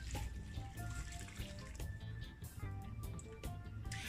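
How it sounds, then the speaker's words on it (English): About a cup and a half of water pours steadily into a pot for a few seconds, a continuous splashing gurgle with no talking. "And then I have about a cup and a half of water. I'm gonna pour it in."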